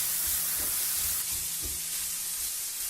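Paneer cutlet mixture is stirred in a hot pan, giving a faint, steady hiss of sizzling with a few soft, low thuds of the stirring utensil over about three seconds.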